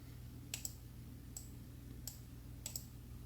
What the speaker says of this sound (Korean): 클릭하고 자동 합계를 누르고